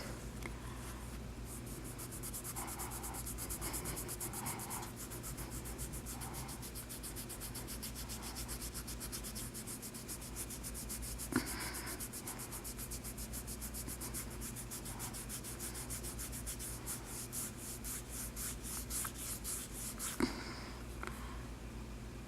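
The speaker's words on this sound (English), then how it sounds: "rub it on until you can see the wax through the strip." A wax strip rubbed firmly over the upper lip, a steady close scratchy rubbing that continues for over twenty seconds with a couple of small sharp ticks.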